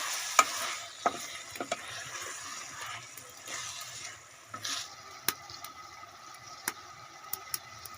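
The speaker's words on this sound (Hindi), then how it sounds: "चिकन को 2 से 3 मिनट और भून लेंगे।" Chicken is fried with spices in a pot, giving a faint, low sizzle broken by sharp spoon clicks and scrapes at irregular intervals, heard close with no talking.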